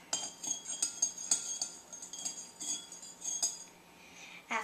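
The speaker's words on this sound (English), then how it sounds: "Then you'll need to put in some salt and stir it up." Salt is stirred into hot water in a bowl, a metal spoon clinking and tapping against the sides in quick irregular strokes, close and light, with a short louder knock at the end.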